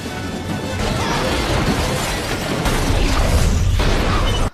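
A truck rams into another car in an action film chase, heard as a loud, sustained grinding crash and metallic smashing that continues for several seconds before cutting off abruptly.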